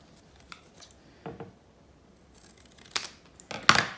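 Scissors cutting paper pillars for a pop-up card: a few sparse snips early, then quicker, louder close cuts near the end, with quiet pauses between and no talk.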